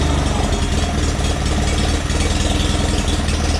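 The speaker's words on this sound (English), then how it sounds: "So it's idling a little slow right now." An Onan engine in a John Deere 318 garden tractor idles slowly and steadily up close, a loud, even, low chugging with a faint mechanical rattle and no voices.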